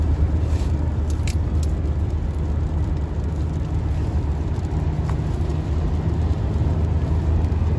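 A tiny Daewoo Tico drives past on a road, heard as a steady, loud, broadband engine and tyre roar that holds evenly throughout, with no voices.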